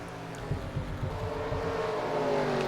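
Stock cars in a racing video game at North Wilkesboro battle in a pack, a dense, loud, continuous engine drone with layered revving tones and rhythmic pulses, no voices.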